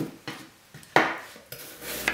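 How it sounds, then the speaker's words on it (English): A knife peels and slices apples in a kitchen, giving several sharp, close scrapes and clicks with one louder cut near the middle, all alone without talk. "I'm going to get these peeled up and sliced"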